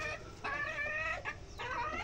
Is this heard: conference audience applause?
no